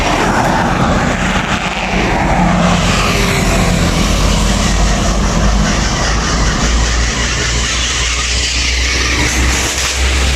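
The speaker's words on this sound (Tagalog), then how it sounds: "damo ng mga big trucks, mga private vehicle is passing here" Heavy traffic on a city road in Iloilo City, with big trucks and private cars rumbling past, forms a loud, continuous roar with a deep low drone swelling toward the end.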